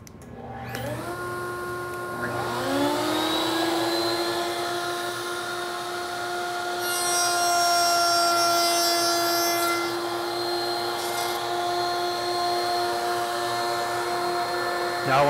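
A power saw whines loudly and steadily as test cuts are made in wood for a double dovetail joint, its pitch sagging and recovering as the blade bites, with no talk over it.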